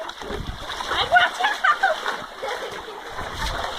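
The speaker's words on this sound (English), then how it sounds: "No, it's gonna splash your floor." A wet dog splashing water out of a backyard swimming pool, several quick close splashes and sloshes in the middle of the clip, with people talking over it throughout.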